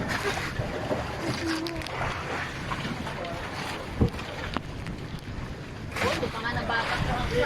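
A boat engine drones steadily beneath wind buffeting the microphone and splashing water in choppy seas while island hopping off Tablas Island, Romblon, Philippines, with voices talking now and then.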